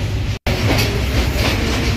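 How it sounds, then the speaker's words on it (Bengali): Train rumbling steadily on its rails as it pulls away from a station in Bangladesh, a loud continuous roar of wheels and carriages with a brief dropout near the start. "ট্রেন ছেড়ে দিল"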